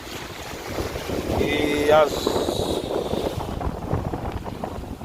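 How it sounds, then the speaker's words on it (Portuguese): Strong wind buffets a boat far out at sea, roaring across the microphone with waves and water splashing, while someone talks over the gusts. "Vento forte."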